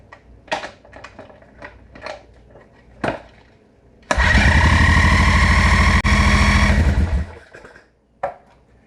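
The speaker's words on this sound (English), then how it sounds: "I'm going to take my remote starter and I'm going to spin the engine over with the remote starter for a bit to prime the pump." A Rotax 600 aircraft engine is spun over with a remote starter, a loud, steady cranking whir lasting about three seconds, with scattered clicks and handling knocks before and after.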